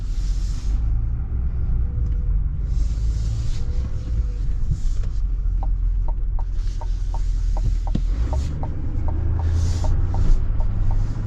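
Steady low diesel rumble from the Duramax turbodiesel of a 2025 GMC Sierra 3500 Denali Ultimate pickup, idling evenly with a faint rhythmic ticking in the second half, continuous and moderately close with no talk.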